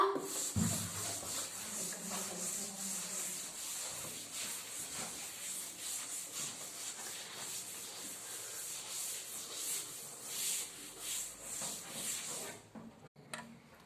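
Steady rubbing and scraping of writing being wiped off a classroom board during a class 9 economics lesson, a continuous close swishing texture that runs for about twelve seconds before stopping abruptly.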